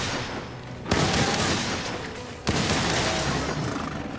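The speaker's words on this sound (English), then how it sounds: "that rapid fire doing ridiculous amounts of damage here" Light Bowgun shots from Monster Hunter World fire in a dense, rapid barrage, two loud sustained bursts of booming impacts that fill the clip, with no talking.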